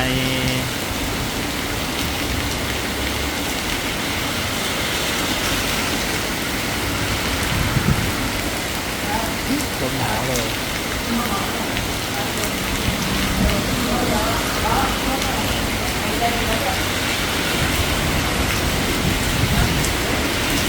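Heavy rain pours down in Kanchanaburi, Thailand in a dense, constant roar, with gusts of wind mixed in and someone speaking briefly over it.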